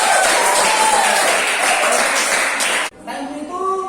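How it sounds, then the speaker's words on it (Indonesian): Classroom students clap together in a dense burst of applause that stops abruptly after about three seconds, followed by a quiet room with a speaking voice. "Berikan tepuk tangan yang mulia."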